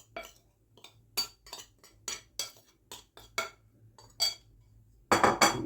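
A spoon stirs orange cake batter in a bowl after the flour is added, giving a series of separate clinks and scrapes against the bowl, quiet between strokes and quickening into a louder burst at the end.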